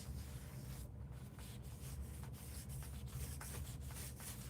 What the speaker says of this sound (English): we kind of rub it all over and it gets into those stamped areas